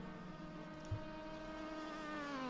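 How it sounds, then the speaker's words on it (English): A thin, high-pitched racing car engine whine in the sim game rFactor 2 drones steadily like a buzzing insect, rising slightly in pitch over a couple of seconds. "Sounds like a mosquito attacking you."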